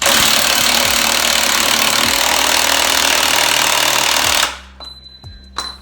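A loud, continuous rattling hammer from an impact wrench on the wheel nut of a Ducati Panigale 1199 race bike, running close for several seconds, then cutting off into near silence with a few faint clinks.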